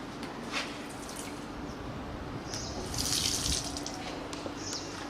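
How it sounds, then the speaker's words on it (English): Running water from a wash basin tap at a school, a steady close hiss and splash with small drips, swelling briefly louder partway through. "Wash basin for girls with running water."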